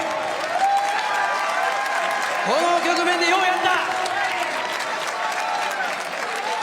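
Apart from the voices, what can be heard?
boxing audience applauding for Casimero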